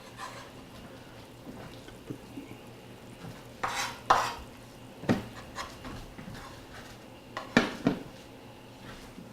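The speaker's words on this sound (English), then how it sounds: "now we're going to add the fresh basil to the sauce" A spoon stirring fresh basil into tomato pasta sauce for pasta pomodoro in a pot, with scattered scraping clinks and soft knocks against cookware, a couple of louder bursts, close by and without talk.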